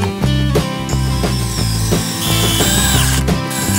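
A power drill drives screws into wooden raised garden bed boards, the motor whirring loudly in short bursts close by, with pitch rising as each screw seats.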